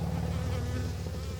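Honey bees buzz steadily around an open five-frame medium hive whose frames are being filled with syrup, a continuous close, dense drone with no talk over it.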